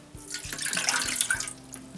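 Water is poured steadily for a couple of seconds for pizza dough, close by, running and splashing with a few faint knocks underneath.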